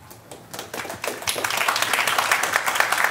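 A small audience at an alumni pitch event gives a round of applause for a presenter, starting with a few scattered claps that quickly build into brisk, close clapping.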